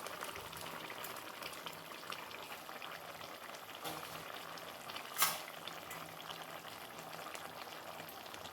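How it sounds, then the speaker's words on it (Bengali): Okra curry liquid bubbling at a low boil in a pan, a faint, steady simmering hiss with one brief louder clink near the end. "ঢ্যাঁড়সের তরকারির জুসটা আর কি ফুটে গেছে।"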